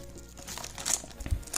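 A small plastic bag holding a resin miniature officer crinkles and rustles close by in short, irregular handling sounds with a couple of sharper crackles.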